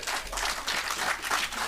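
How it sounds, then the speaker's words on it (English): An audience at a World Bee Day celebration applauds, a dense, steady wash of many hands clapping that holds even and fairly loud throughout. "Give them another round of applause."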